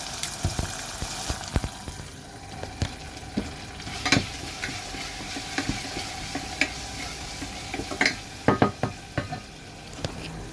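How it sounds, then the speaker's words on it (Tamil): Chopped tomatoes sizzle steadily in a hot pan while a spoon stirs and scrapes in irregular knocks, close and fairly quiet. "வெட்டின தக்காளி பழத்தையும் போட்டு நல்லா கரைஞ்சி வர மட்டும் தாளிக்கணும்"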